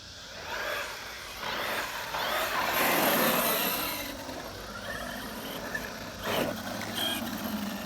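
An Arrma Kraton EXB RC truck drives on loose ground, its electric motor whining and wheels spinning in bursts, with gritty crunching and a sharp rise near the end, moderately close.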